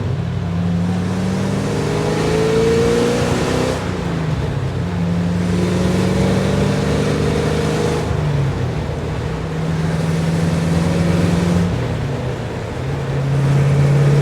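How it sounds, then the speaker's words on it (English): A 1953 Allard K3 engine pulls hard along a farm road, loud in-cabin roar rising in long sweeps through several gear changes with brief dips between them. "So we'll show you the grunt, the might, the muscle as soon as we turn on to the farm road."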